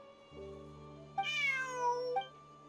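A cat meows in Genshin Impact, one clear, drawn-out rising and falling cry close by over a steady musical drone, with no talking.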